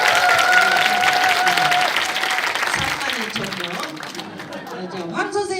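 A live talk-show audience at a Friday party event in Yongin breaks into dense applause that fills the room, with a few cheers and whoops. The clapping tapers toward the end as a voice begins speaking over it.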